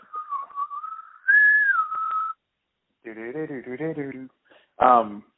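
A person whistles the Bob's Burgers theme tune, a clear wavering melody of a few sustained and sliding notes for about two seconds, followed by a short stretch of speech.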